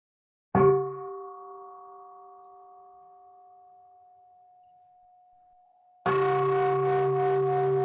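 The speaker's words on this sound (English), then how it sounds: "Would you like a sound of the bell before you start?" A single meditation bell is struck once, ringing out with a clear sustained tone that slowly decays over several seconds, then a second, louder strike sounds near the end.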